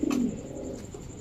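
A pigeon gives a soft, low coo near the start, followed by quieter murmuring in a faint background with no speech.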